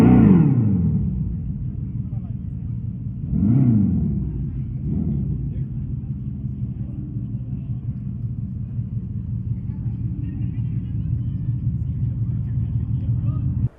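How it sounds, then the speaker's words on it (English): A Dodge Charger Daytona electric car's Fratzonic chambered exhaust rumbles deeply, with a couple of revving swells early on before settling into a steady low idle, close up. "it does have that Fretsonic chambered exhaust that you heard at the very beginning"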